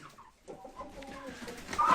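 Young cockerels cluck and give a brief crow-like call, faint and somewhat distant amid low farmyard noise, growing slightly louder toward the end.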